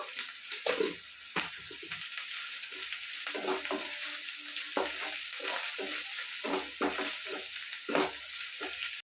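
Ginger paste and turmeric with curry leaves fry in a pan, a steady hiss broken by repeated scraping stirs throughout, close and fairly loud with no talking.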